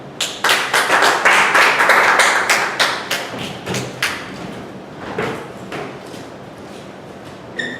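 Hands clapping in a small meeting room after a Toastmaster's speech: a dense burst of fairly close applause that peaks in the first few seconds, then thins into scattered claps and fades out.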